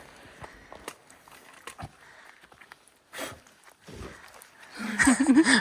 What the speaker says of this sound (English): What are you chewing on?